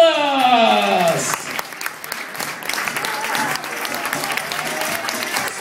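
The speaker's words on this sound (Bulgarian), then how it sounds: "Вашите аплодисменти за Никола Николас!" A theater audience at a Bulgarian stage show breaks into sustained clapping for a young magician. A presenter's voice rises briefly at the start, then steady, dense applause fills the rest.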